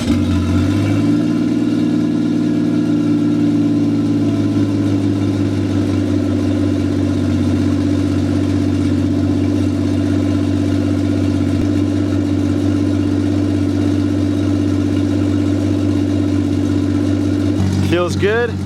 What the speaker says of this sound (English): Once you start the car, you can fire it up and just let it run, and it should easily bleed itself.